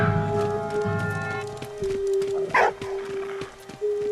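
A dog in the World War I video game Valiant Hearts: The Great War gives a few short barks over game music and a sustained musical tone, with a brief higher yelp in the middle.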